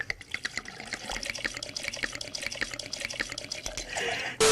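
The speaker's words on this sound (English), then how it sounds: "So we're gonna do 2 ounces of vodka." Vodka poured for a summer cocktail, a steady gurgling trickle of liquid splashing into a glass for several seconds, with small glugs throughout and a brief clink at the end.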